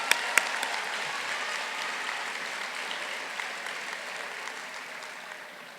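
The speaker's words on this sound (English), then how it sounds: "Please join me in giving them a round of applause to express our appreciation." Sustained applause from an audience at a community college commencement ceremony honoring graduating veterans, a steady wash of many hands clapping that slowly fades toward the end.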